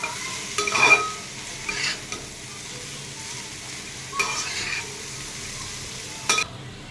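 Egg noodles get stirred in a frying pan, a soft sizzle underneath with a few scraping stirring strokes rising above it now and then.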